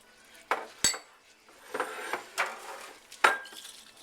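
Seasonings are whisked around in a metal pot of thick sauce, a handful of separate clinks and scrapes of the whisk against the pot, close and fairly crisp, with quiet gaps between strokes.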